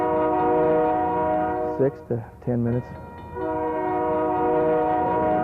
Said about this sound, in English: the whistle would blow all the way through town